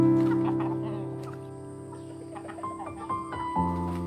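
Roosters and hens being caught into bamboo cages on a rural farm give short clucks and squawks over a steady droning tone with background music.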